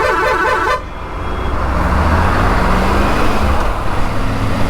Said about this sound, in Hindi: हॉर्न बजा ले।